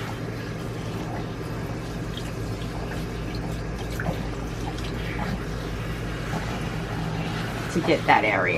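Running water rinses soap from a long coat Shih Tzu during a bath, a steady close splashing flow with drips, while someone talks over it.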